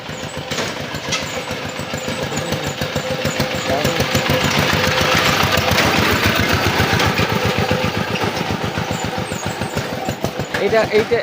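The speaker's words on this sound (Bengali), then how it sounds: "সেই ধরনের একটা গাড়ি যেটাকে ভটভটি বলা হয়" A bhotbhoti, a rural vehicle built around a diesel shallow-machine water-pump engine, runs with rapid, loud, chugging thumps that grow stronger and then hold steady, with voices talking over it.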